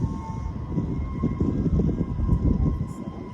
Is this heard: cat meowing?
no